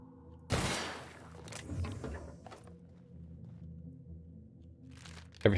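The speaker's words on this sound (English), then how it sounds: "Every time I shoot, at least two to three shots per." Gunfire from The Outer Worlds video game: one sharp, loud burst near the start, followed by scattered crunchy impacts and softer reports, then another loud hit at the very end.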